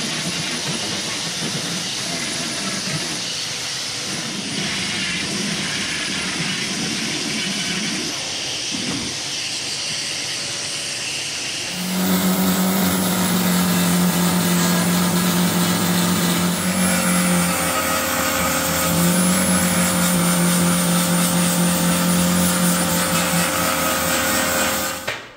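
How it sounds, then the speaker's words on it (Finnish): A belt sander fitted with a taped-on vacuum hose grinds across a fiberglass boat hull riddled with over a hundred holes, a loud steady whir with droning hum that starts partway through and runs on continuously, with no talk. "voi mennä ton nauhanhiomakoneen kanssa. Se ei pölytä, kun siihen vaan teippaa tuo imurin kiinni."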